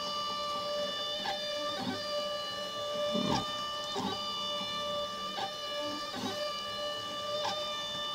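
A Makeblock X/Y gantry plotter with a servo-based pen lift draws, its stepper motors whining in steady tones broken by regular clicks and short bursts of movement, alone and close.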